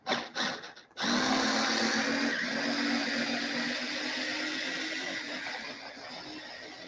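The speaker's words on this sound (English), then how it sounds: "we will put the belacan into the paste, give it a quick blend" A blender grinding belacan into laksa paste runs in one loud, continuous whir after a few short pulses, slowly easing slightly in pitch and level toward the end.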